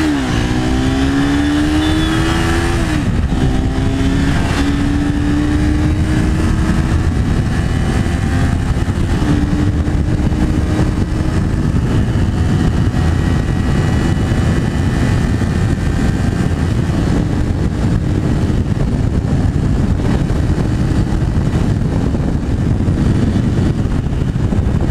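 A motorcycle pulls away hard from a stop at a traffic light, its loud engine revving up through several rising gear pulls and then holding a steady high-speed roar with heavy wind rumble, close and continuous with no talking.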